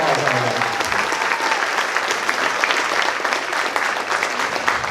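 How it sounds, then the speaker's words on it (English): A room full of people clapping at a karate show, sustained and lively applause at close range that carries steadily throughout. "Yeah, Mina deserves a round of applause on that."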